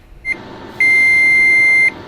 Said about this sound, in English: That's what you hear when the timer is up.